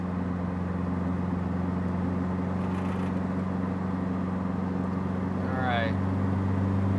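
A Citroen DS21 drives in third gear through hilly countryside, its engine a steady low drone with a constant tonal hum heard from inside the cabin; a brief chirping squeal rises near the end.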